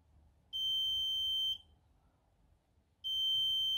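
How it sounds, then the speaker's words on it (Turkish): A shrill electronic alarm from an Arduino temperature monitor with an LM35 sensor beeps in long, steady tones, two sustained beeps separated by a short pause, loud against a quiet background. "hala gördüğünüz gibi bana alarmımı veriyor"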